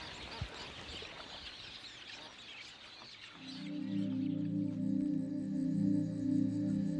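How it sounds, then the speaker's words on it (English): A massive flock of tens of thousands of ibis calls at sunset, a dense, raspy chattering din filling the first half, then a steady droning hum rises beneath and takes over. "tens of thousands of ibis are returning from their day's feeding. Listen to the noise."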